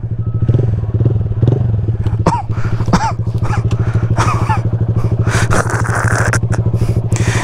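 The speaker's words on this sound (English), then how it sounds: "Honda Grom top speed run." Modified 2019 Honda Grom motorcycle engine revving hard during a riding run, a loud, steady buzzing drone with rapid firing pulses and rising pitch sweeps as it shifts through gears, close and continuous.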